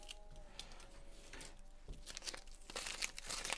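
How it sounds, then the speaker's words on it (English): Masking tape is peeled off an acrylic painting of an evening lake scene, giving quiet, close crinkling and tearing rasps that grow busier and louder toward the end, with no talking. "I'll just pull this tape off there."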